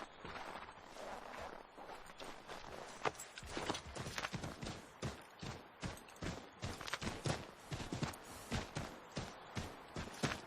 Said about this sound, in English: That's why we got horses